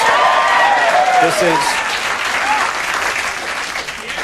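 A studio audience at a late-night comedy show breaks into loud applause and cheering that slowly thins, with a voice speaking over the clapping.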